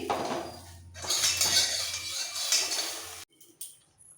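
A metal wok set back down on a kitchen stove after frying soybean chunks, a clanking scrape and rattle of cookware that fades, then a couple of fainter knocks near the end.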